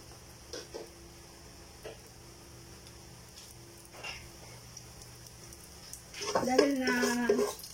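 Garlic hits a hot pan and breaks into a sudden sizzle near the end, after a long stretch of quiet kitchen background with a few light knocks and a voice in the room.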